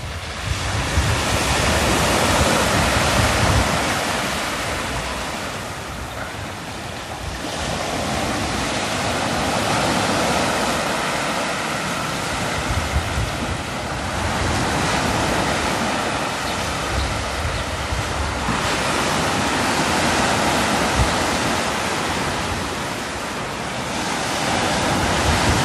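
Waves break steadily on the beach at Kinghorn Harbour on the Firth of Forth. The surf is loud and continuous, with gusts of wind buffeting the microphone. Nobody speaks.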